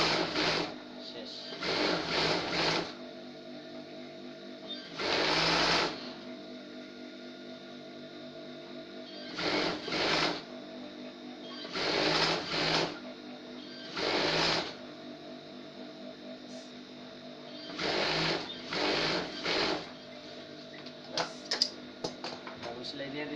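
Sewing machine running in short bursts while double-stitching a salwar seam, several separate runs of a second or so each, with pauses between them and a steady background hum.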